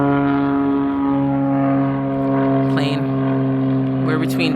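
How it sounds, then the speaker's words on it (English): A small propeller airplane flies overhead above a garden lying between two tiny airports, its steady loud droning hum holding throughout with a slight shift in pitch as it passes. "Plane. We're between two airports."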